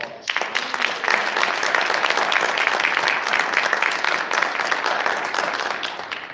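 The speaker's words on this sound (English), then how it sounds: "So let's give all three a round of applause." A church meeting audience claps for its delegates, a full, even round of applause that swells quickly and holds steady to the end, with no talking over it.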